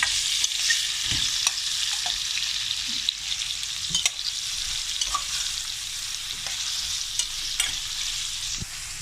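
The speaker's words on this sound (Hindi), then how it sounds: "थोड़ा सा मैं प्याज को जो फ्राई कर रही हूँ।" Onions sizzle steadily in a hot pan for kaleji masala, with occasional scrapes and taps of a stirring utensil close by.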